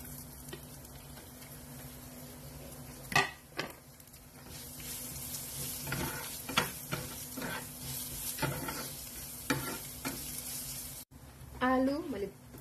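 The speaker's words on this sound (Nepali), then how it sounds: "अनि सौंफ यो तीनटाको मिक्सरलाई म मजाले तेलमा फुल्याइदिन्छु" Fennel seeds, asafoetida and chopped ginger fry in hot oil for samosa filling, a steady low sizzle with intermittent stirring clatters, and a voice speaks briefly near the end.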